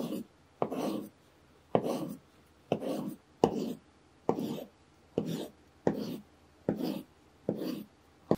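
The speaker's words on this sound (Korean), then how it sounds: "아보카도는 반으로 자른 다음 껍질을 벗기고 작은 크기로 깍둑 썰기 해주시고요" Avocado being diced into small cubes with a knife, a regular series of about ten crisp, close knife strokes through the soft flesh onto a board, each followed by a short pause.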